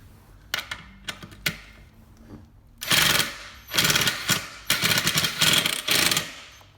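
An impact wrench tightens bolts on Panasport G7 wheel rims, opening with a few short single taps, then hammering in four loud rattling bursts of about a second each with brief pauses between.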